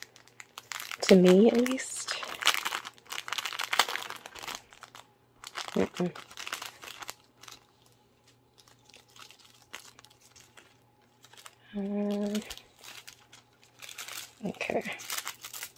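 Plastic packaging around nail art foils crinkles and crumples in a few short bursts, close by, with someone speaking briefly between them.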